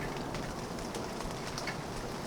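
Light rain from a recording mixed into a Music Thing Modular Workshop System patch, a steady soft patter with faint crackle that stays even and close throughout, no voices.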